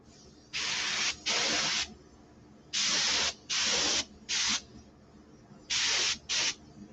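A spray paint can hisses out in seven short, even bursts, each about half a second long with brief pauses between, loud and close against a quiet background.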